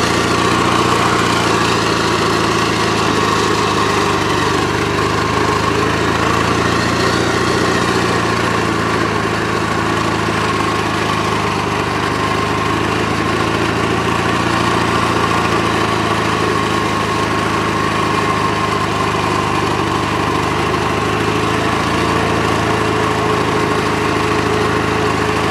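A Gravely 8163-T garden tractor engine runs steadily in fourth gear, loud and close, with a constant droning hum and mechanical whine that hold even for the whole stretch, no voices.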